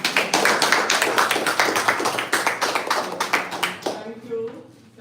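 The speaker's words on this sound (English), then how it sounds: "we want to give her a round of applause" Audience applauding in a hall for a Garifuna senator at a cassava conference and celebration in Belize, a steady run of dense claps that thins out and stops near the end.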